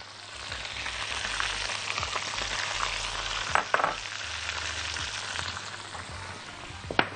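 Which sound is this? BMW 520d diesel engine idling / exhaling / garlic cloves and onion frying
garlic cloves and onion frying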